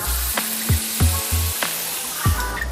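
Shallots sizzle in a pan where meat has just been seared as rice vinegar is added to deglaze, giving a steady hiss broken by several sharp bursts of spitting and crackling, close up with no talk.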